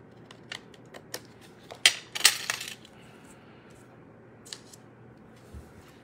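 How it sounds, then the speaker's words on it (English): Scissors trim excess paper from a Stampin' Up! card project, a few crisp snips and clicks in a quiet room, sharpest in two close bursts near the middle and then sparse small taps. "Okay, now I'm going to take my scissors and I'm just going to cut off the"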